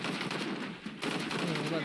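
Rapid automatic gunfire in the video game Shadow of the Tomb Raider, a dense burst of shots lasting under two seconds, briefly pausing midway before resuming.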